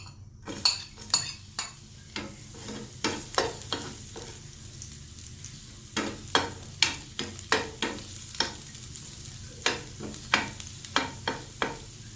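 Crispy pork belly stir-fried in its own rendered pork fat for a Thai holy basil dish, steady sizzling beneath repeated sharp scrapes and clinks of a utensil against the pan, close and rhythmic throughout.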